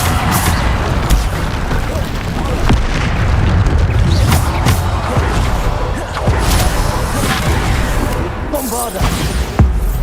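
Repeated Bombarda spell explosions in the Hogwarts Legacy video game make loud, dense booms and crashing bursts throughout, mixed with combat noise and voices.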